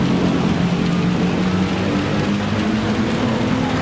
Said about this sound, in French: là il pleut vraiment très fort.